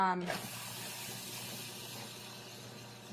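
A food processor whirs steadily after a brief start, chopping cilantro, its dense, hissing motor-and-blade noise running loud and continuous throughout.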